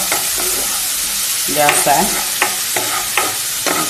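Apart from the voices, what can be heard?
garlic and ginger frying in a pan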